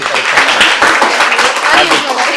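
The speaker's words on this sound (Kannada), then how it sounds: "ಒಂದ್ಸರಿ ಜೋರ ಚಪ್ಪಾಳೆ ಬರ್ಬೇಕಪ್ಪ ಇವ್ರಿಗೆ. ಇಂಥ ಜನ ಎಲ್ಲಿ ಸಿಗ್ತಾರೆ ನಿಮ್ಗೆ? ಹೊಡಿರಿ ಚಪ್ಪಾಳೆ, ಹೊಡಿರಿ." An audience at a school stress-buster event claps steadily, a dense continuous wash of applause with voices mixed in.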